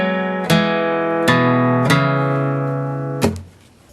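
Acoustic guitar notes picked one at a time on the 4th and 3rd strings, four clear plucks ringing and sustaining close up, the last fading out.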